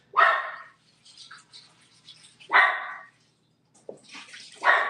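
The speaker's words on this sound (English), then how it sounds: "You hear the dog?" A dog in a home kitchen, heard alongside water running in a sink as produce is rinsed, barks three or four times in sharp, separate bursts from a moderate distance.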